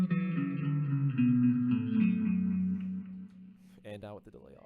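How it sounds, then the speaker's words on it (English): Sustained electric guitar notes and chords ringing through a delay effect, with repeats trailing each phrase, fading toward a softer, echoing tail near the end. "This is with the delay on."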